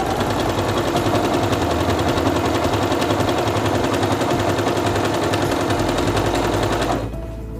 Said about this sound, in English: begin sewing again